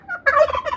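A pet turkey kept at a house lets out a loud, close, rippling gobble, a quick run of throaty warbled notes lasting under a second, with nobody talking.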